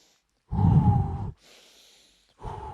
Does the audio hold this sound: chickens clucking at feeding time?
no